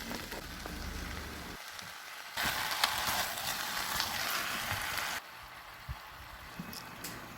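Chopped tomatoes stir-frying with garlic and onion in olive oil over high heat, seasoned with salt and dried basil. A steady, close, crackling sizzle swells loudly for a few seconds in the middle, then drops back to a quieter hiss.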